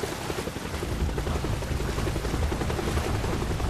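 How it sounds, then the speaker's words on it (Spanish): A helicopter over the open sea, heard as a loud, steady rotor roar with dense low chopping that holds throughout with no voices. "Oímos el fuerte sonido de un helicóptero."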